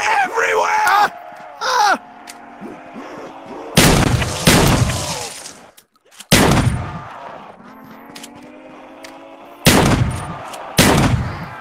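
Call of Duty Zombies combat on a jellyfish rock map, with loud bursts of gunfire and explosions between stretches of excited talking and groaning voices, close and punchy.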